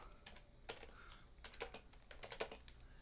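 Typing on a computer keyboard during a livestream, with quick irregular bursts of clicks and taps that sit close to the mic and stay fairly quiet, with no talking.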